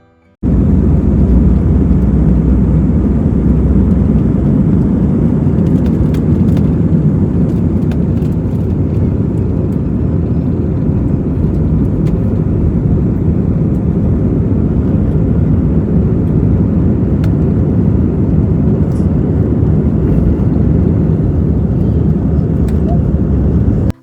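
IndiGo passenger airplane on a flight to Hyderabad makes a loud, unbroken engine roar and cabin drone, steady and close for the whole stretch, with only faint scattered clicks on top.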